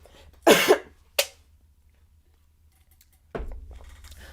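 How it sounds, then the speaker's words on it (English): A single close cough followed by a brief second cough, then quiet with faint rustling afterward. "Hold on, I'm about to cough."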